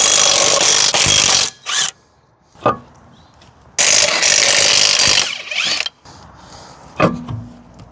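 A jack being ratcheted to raise a Volvo 240 for brake work, with loud bursts of clicking and scraping mechanical noise separated by short quiet pauses, close by.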